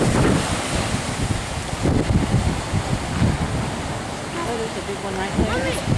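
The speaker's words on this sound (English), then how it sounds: "Right, so windy." Strong wind buffets the microphone on an ocean beach where elephant seals gather, a steady roaring gust with surf underneath, while people talk and chatter over it.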